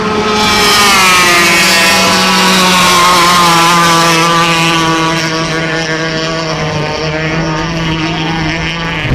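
Loud, high-revving hydroplane racing boat engines whine nearby, their buzzing tone steady, then dipping slightly as one boat's engine cuts out.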